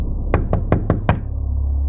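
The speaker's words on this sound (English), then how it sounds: "I decided to knock, just in case someone was staying there" Five firm knocks on a wooden cabin door, evenly spaced and loud, heard up close against a low steady background rumble.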